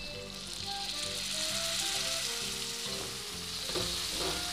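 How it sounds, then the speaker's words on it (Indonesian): Spice paste for Makassar konro bone soup sautés in oil with tamarind water, a steady sizzling fry with soft rhythmic stirring scrapes, close and continuous. "Kita lanjutkan menumis sampai bumbunya benar-benar tanak dan bumbunya sudah terpisah dari minyak."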